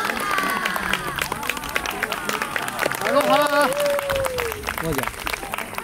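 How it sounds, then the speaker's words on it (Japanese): Fans at an Earth Day hula dance event applaud loudly, steady dense clapping throughout with crowd murmur and talk layered over it. "ファンの皆さん、大きな拍手を。"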